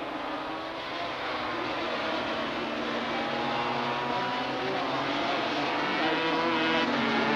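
500cc racing motorcycles at Hockenheim in 1985, engines screaming steadily and close, with rising and falling whine as bikes pass, a continuous loud roar throughout.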